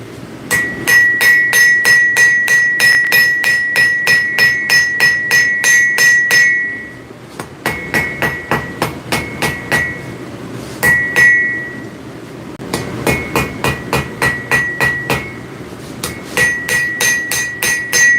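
Hammer blows on hot metal ring out in a workshop forging session, a close, loud run of steady rhythmic strikes with bright ringing, broken by short pauses between bursts.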